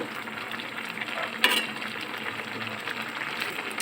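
A squid dish sizzles and bubbles in a pan, a steady close crackle with one brief clatter partway through.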